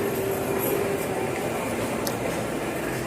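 Steady rumble and hiss of an MRT train on a ride toward Bukit Batok, a constant low drone with faint high whine and no speech.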